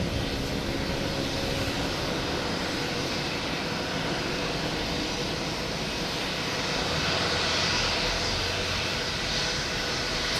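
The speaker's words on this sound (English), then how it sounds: "next to arrive is a JetBlue coming from Jacksonville, an A320" A JetBlue Airbus A320 arriving from Jacksonville at Boston Logan gives a steady, broad jet-engine roar at moderate distance, swelling slightly near the end, with no voices.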